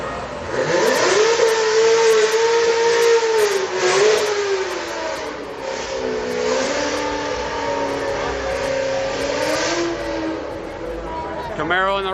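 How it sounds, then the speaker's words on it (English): A V6 Camaro street car accelerating at a drag strip street car night, its engine note climbing steadily in pitch as it pulls away, loud and sustained with crowd and track ambience underneath. "V6 Camaro."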